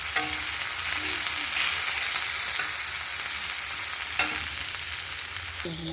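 Onion sizzling and frying in hot oil in a pan, a steady close crackle throughout with occasional stirring scrapes and clinks.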